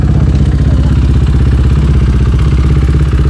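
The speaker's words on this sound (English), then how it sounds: "This is a 500cc supermoto, and it is an absolute rocket ship." A KTM 500 XCF, a 500cc four-stroke supermoto dirt bike, runs close and loud with a steady throbbing, clattery engine rumble and no voices.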